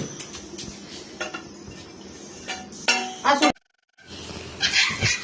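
Plates and cutlery clink and clatter close by as a home meal of roti and moong dal is served, with scattered bright metallic knocks. Voices sound in the background, and there is a brief silent gap.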